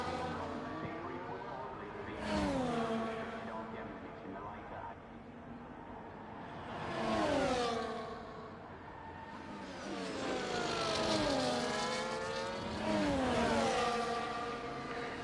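Race cars in a racing video game, with three cars on the road, engines whining as they rise and fall through gear shifts and repeated pass-bys, heard at moderate distance.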